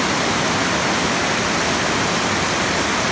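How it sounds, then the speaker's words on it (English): A clean river flows near Hida-Takayama in Gifu Prefecture, Japan, making a loud, close, constant rushing hiss with no voices over it. "Beautiful clean river."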